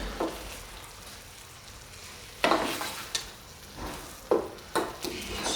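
Soy sauce chicken sizzling in a pan as the sauce thickens, a soft low sizzle broken by several sharp scraping and stirring clatters as the meat is flipped.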